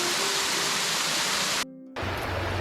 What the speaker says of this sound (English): first waterfall is along the Cabot Trail in northern Cape Breton Island, Nova Scotia